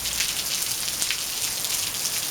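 Rain falls steadily on a back patio, a dense, close hiss of drops pattering on hard surfaces with no voices.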